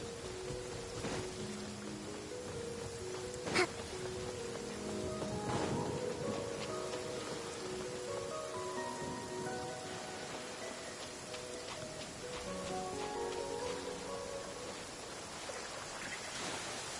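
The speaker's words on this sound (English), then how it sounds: "Marching in the rain conceals the sound of our arrival, but is also a test of stamina." Steady broadband rain falls throughout a fantasy video game scene, a constant soft hiss with scattered drops, overlaid by quiet game music and faint effects.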